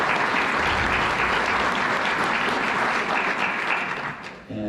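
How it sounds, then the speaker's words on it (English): Steady applause from an audience at a college recruiting coaches panel held as a club night, filling the room at near level, with a brief dip just before the end. "Round of applause for Nancy."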